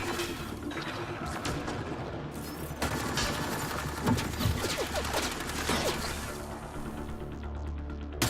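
Rapid gunfire and crashing impacts in a Mass Effect Andromeda firefight, dense continuous bursts with mechanical clatter filling the whole stretch, loud and close.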